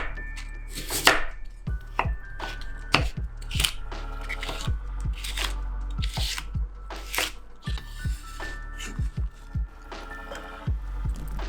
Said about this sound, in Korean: 당근을 썰어요. 블렌더로 잘게 갈릴 수 있도록 채 썰게요.